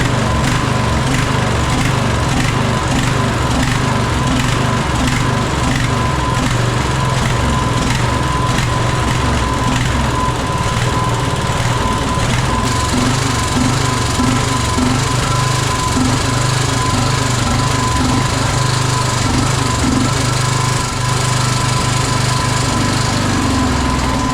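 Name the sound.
1998 Craftsman LT1000 lawn mower engine running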